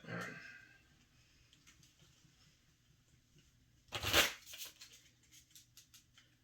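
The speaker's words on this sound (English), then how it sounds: "Just give these a quick shuffle, really." Playing cards riffled in one quick burst, a brief crisp flurry of flicks and snaps partway through, close and moderately loud over a quiet room before a short settle, during a Warcry tabletop game.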